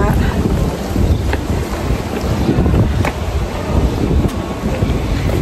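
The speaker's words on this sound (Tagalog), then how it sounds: "Windy pala, windy." Strong wind buffets the microphone outdoors near the water in Melbourne, a loud continuous rumble with gusts rising and falling throughout.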